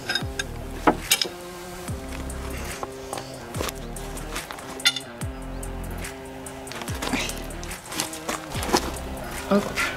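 Cylinder head bolts on a Renault engine are loosened during a head gasket job, with metallic ratchet clicks and sharp cracks as each bolt breaks free. Someone speaks French over the repeated clicking of the tool.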